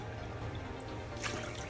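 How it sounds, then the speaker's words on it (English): Water is poured into a bowl of all-purpose flour and corn starch for homemade lumpia wrapper batter, a soft trickling and dripping that swells briefly before fading, quiet and close with no talk. "Ito po, lagyan ko na ng tubig, which is 3 cups."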